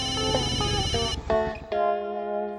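A telephone rings unanswered indoors in a Hindi sitcom scene, its electronic ringtone playing a bright, fairly loud melodic pattern with no speech over it.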